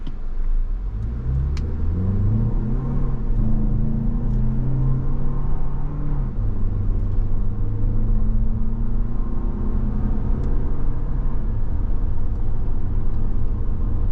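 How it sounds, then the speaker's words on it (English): A 2024 Toyota Grand Highlander Platinum pulls away from a stop, its drivetrain and engine rising in a loud, close hum that climbs in pitch through a gear change and then settles into a steady cruising drone. "You hear a bit of noise from the drivetrain when you're taking off, but it's a nice noise"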